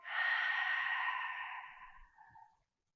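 A long, steady exhale during Pilates matwork, breathy and close, lasting about two and a half seconds and slowly trailing off, with no talking.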